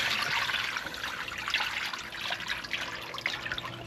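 Collected rainwater trickling from a bucket into a tub for washing, a continuous close bright splashing and gurgling flow at steady strength with no talk over it.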